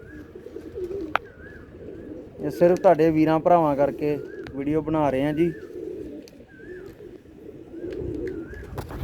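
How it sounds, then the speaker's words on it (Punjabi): Pigeons coo softly on a rooftop in repeated low, rolling calls, while someone talks over and between them at close range. "ਉਹ ਉੱਤੇ ਕਬੂਤਰ ਵੀ ਆ ਗਿਆ ਜੀ"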